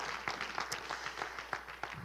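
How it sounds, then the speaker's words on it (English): Congregation in a church clapping hands together, a dense run of repeated claps at moderate distance, steady and sustained without talk. "could you just give Him the best hand clap you've given Him all morning long"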